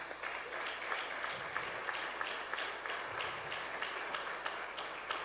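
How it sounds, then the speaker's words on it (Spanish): A congregation at a church service applauds, a dense, continuous wash of many hands clapping at once, steady and even throughout, with no voices rising above it. "Démosle un aplauso al Señor por la vida de estos padres"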